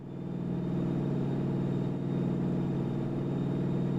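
A heavy five-trailer road train truck engine in American Truck Simulator pulls a 150-ton load, its deep, steady drone building over the first second and then holding loud and constant.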